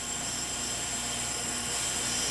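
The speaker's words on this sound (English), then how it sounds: "Okay, now the steam is coming." Steam vents from hydro-thermal sludge treatment equipment processing city garbage, a loud, continuous broadband hiss that holds steady throughout, close and unbroken with no talk over it.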